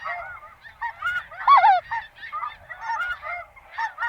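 White-fronted geese, or specks, honk in a flock during a goose hunt, a near chorus of overlapping yelping calls with one louder laughing call standing out above the rest.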